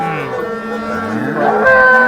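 A cow moos loudly and close at a cattle market, one long drawn-out call that swells toward the end, with faint background voices.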